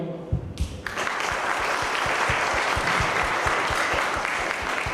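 An audience at an industry forum applauds a panel of experts: after a few scattered opening claps, a full, steady burst of many hands rises and holds at an even, moderate level to the end.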